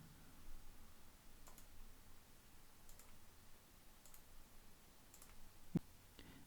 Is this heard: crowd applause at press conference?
no